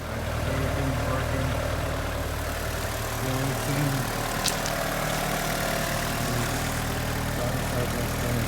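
A 1996 Honda Civic EK hatchback engine idles steadily after an axle swap with Insane shafts, a continuous low rumble with faint mechanical noise and one brief high click midway.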